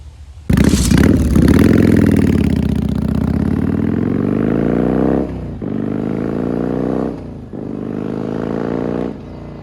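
A 1996 Yamaha XV750 Virago bobber motorcycle converted to a single carburetor starts up and idles loudly up close, then revs up and drops back twice with a lumpy V-twin burble.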